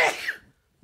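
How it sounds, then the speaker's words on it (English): A single short, sharp sneeze, close and fairly quiet, followed by near silence. "Just sneeze."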